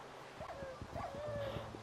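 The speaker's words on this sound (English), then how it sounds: "Oh no, my dog's drowning!" A dog whimpers and yips in distress while drowning in Minecraft, several short high whines in a quick sequence, fairly close, over a low background hum.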